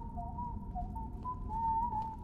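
Choo Choo Charles, the monstrous spider-train from the horror game, whistles a wavering tune that slides up and down over a low rumbling game backdrop, steady and fairly close throughout.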